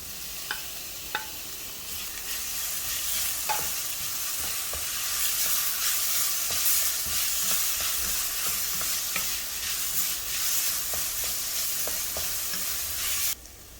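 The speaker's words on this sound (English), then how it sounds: "We're going to add in 2 chilies as well as the tomatoes." Chilies and tomatoes hit a pan of frying onion masala for bindi masala, raising a steady, bright sizzle while a spoon scrapes and stirs through it with occasional clicks against the pan.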